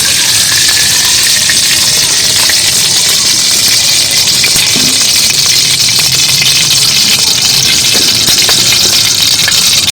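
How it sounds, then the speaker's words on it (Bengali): Palm-flavoured luchi fry in hot white oil in a home kitchen, giving a steady, loud, bright sizzle that runs unbroken for the whole stretch with faint low bubbling beneath and no talk. "সাদা তেল দিয়ে দিচ্ছি ভাজার জন্য"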